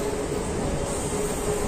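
A MEMU passenger train runs at night with a steady, loud broadband rumble and rushing noise heard from on board, with a faint tonal whine running through it.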